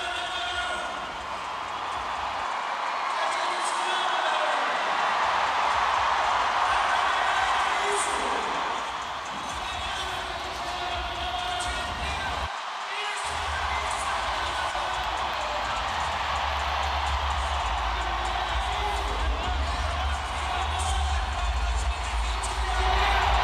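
A home crowd in Brazil roars and cheers at the skateboarding Super Crown final, a sustained loud wash of applause and shouting that swells and dips, with a commentator's voice talking over it.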